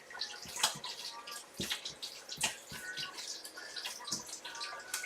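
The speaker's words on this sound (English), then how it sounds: "I'm going to use the bacon grease to kind of season the pan, which you can hear it cracking in the background." Bacon grease crackling and sizzling in a pan as it seasons it, a steady close spatter with frequent sharp pops throughout, no voices.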